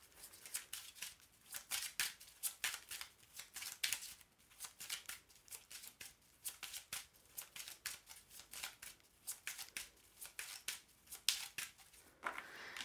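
Petit Lenormand cards shuffled by hand, a steady run of crisp riffling and slapping bursts in quick irregular rhythm, close and fairly loud, with no one speaking.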